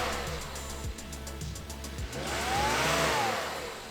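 A Volvo XC90 engine, just repaired for a variable valve timing fault, idles with a steady rhythmic chug and then revs up briefly near the end. The sound is moderately quiet.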